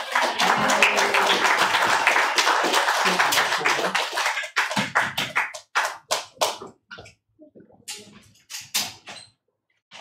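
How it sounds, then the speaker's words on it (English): Audience applause at a poetry reading, loud sustained clapping from a crowd that thins after about four seconds into scattered, fading individual claps. "another round of applause"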